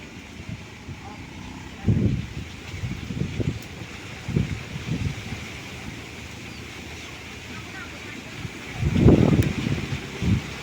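Strong coastal wind at Pandansimo, Yogyakarta, near a new asphalt circuit. It rushes steadily and buffets the microphone, with heavy low gusts around two and nine seconds. No voice is heard.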